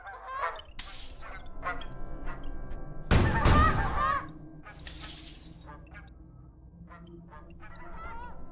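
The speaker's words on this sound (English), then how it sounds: "Cluck, yeah, chickens! Look at all them chickens." Chickens in the video game Space Station 13, a run of short clucks and squawks over a faint hum, with a loud burst of mixed game noise partway through.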